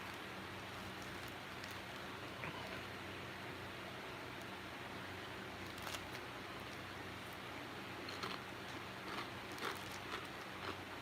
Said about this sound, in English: we're getting some decent amount of rain starting